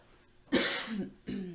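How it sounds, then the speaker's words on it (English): A person coughs twice, close to the microphone, a sharp hacking cough followed after a short pause by a second, rougher one. "excuse my cough"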